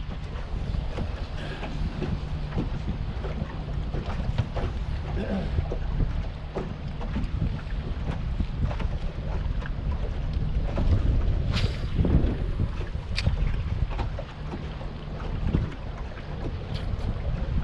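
Steady cold winter wind gusting across the microphone on a fishing boat on Lake Lanier, with constant rumbling buffeting and occasional small knocks from the boat.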